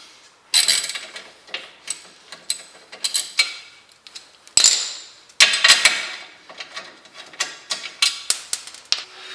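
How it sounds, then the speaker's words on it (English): A 14mm socket on a ratchet wrench works a bolt loose on a coilover from a 2022 Toyota GR86, with repeated close, loud bursts of ratchet clicking and metallic clatter separated by short pauses. "we're going to use a 14mm socket for this one"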